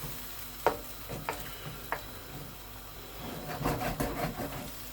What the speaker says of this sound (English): So I'm just going to give that a stir